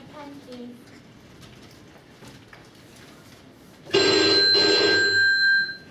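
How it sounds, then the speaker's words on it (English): Telephone bell ringing loudly for about two seconds in a sustained jangling burst, starting abruptly after quiet room sound with a few faint voices. "Answer your phone."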